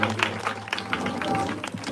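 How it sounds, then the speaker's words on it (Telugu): A Christmas skit audience claps along in a loose, uneven patter under a continuous murmur of voices and a low steady hum, with a few louder slaps standing out. "అందరు క్లాప్స్ కొడదాం."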